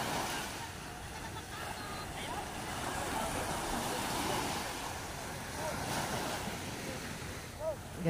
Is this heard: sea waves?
yes